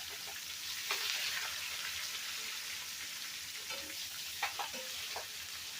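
Onions go into boiling-hot oil and fry with a steady, loud sizzle and crackle, occasional stirring clatter and sharper pops breaking through the continuous hiss.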